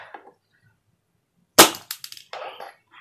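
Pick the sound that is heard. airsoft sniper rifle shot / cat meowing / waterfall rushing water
airsoft sniper rifle shot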